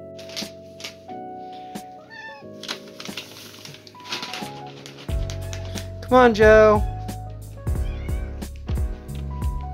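A hungry cat meows several times at close range, with short rising and falling cries scattered among music and a person talking.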